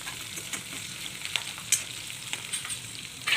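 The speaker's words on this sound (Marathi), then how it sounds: "याला थोडं परतून घेते." Cumin seeds sauté in a pan for an aabhadi bhaji, giving a soft steady sizzle broken by a few light scraping strokes of stirring.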